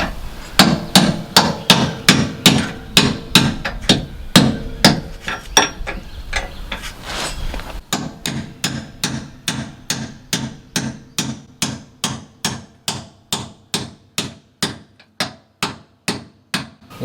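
A hammer pounds a punch to drive a leaf spring bolt out of a trailer's suspension, dozens of sharp metallic blows in a fast, steady rhythm, close and loud with a brief pause midway.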